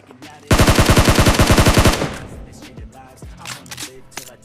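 A loud, close burst of rapid automatic gunfire from a bot in the mobile battle-royale game BGMI, about a second and a half of evenly spaced shots, then scattered quieter in-game clicks and thuds.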